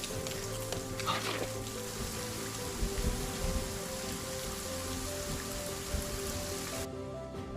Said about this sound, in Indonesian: Di tengah hujan yang deras